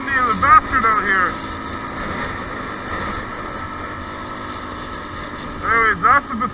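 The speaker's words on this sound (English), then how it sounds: "It's getting windy as a bastard out here." Wind buffets a microphone outdoors, a steady low rumble over a motorcycle engine hum, with brief gusty bursts at the start and end.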